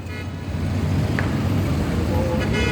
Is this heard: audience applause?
no